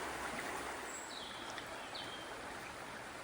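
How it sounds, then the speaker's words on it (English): A creek runs downhill beside the Canal des Vosges near Fontenoy-le-Château in France, giving a soft, steady wash of flowing water with a few faint bird chirps on top. "Here's the creek we're following alongside the canal."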